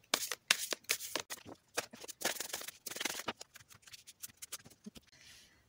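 Tarot cards being shuffled for a reading, a close series of quick riffling bursts and soft slaps with short gaps between them, fairly quiet.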